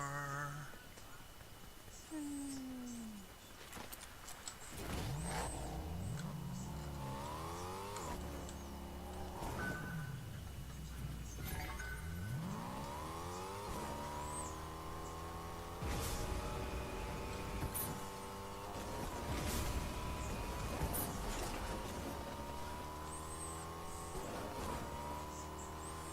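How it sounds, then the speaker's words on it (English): A car engine in Fortnite revs and roars repeatedly, pitch sweeping up and down through gear changes, loud and close over a steady background with faint occasional talk. "Car."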